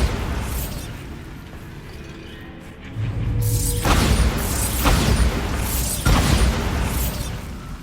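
Bombarda spell blast in Hogwarts Legacy, a heavy booming explosion that bursts in and rumbles on, with a second crashing surge a couple of seconds later, loud and close.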